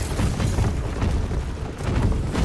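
Grenade explosions in the video game Tempest Rising, thrown by enemy units, rumble as a dense, continuous low boom and crackle that holds steady and loud throughout.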